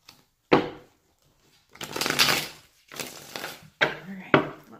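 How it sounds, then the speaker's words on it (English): A few separate bursts of a tarot deck being riffled and bridged close by, each a short papery rush with quiet pauses between. "One more shuffle and I'll cut."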